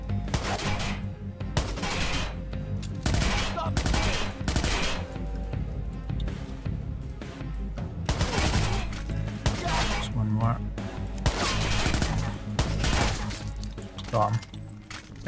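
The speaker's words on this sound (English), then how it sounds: "Just gonna shoot my way out then." Rapid gunfire in the action game Watch Dogs: Bad Blood crackles in steady, repeated bursts across the whole stretch, fairly close and punchy, with a voice occasionally speaking over it.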